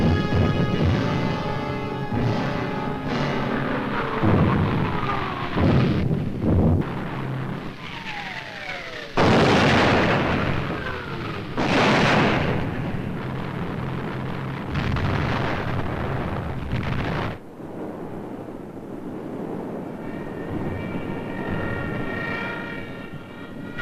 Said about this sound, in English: Bombs fell alike on the homes